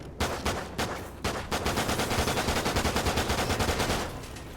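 Rapid automatic gunfire from a Call of Duty match, a dense run of loud close shots in quick succession after a few separate single shots, with no talking.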